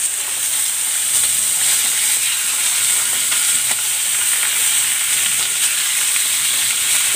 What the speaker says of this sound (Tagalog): Lalagay ako ng cooking oil. I-sear ko muna itong chicken.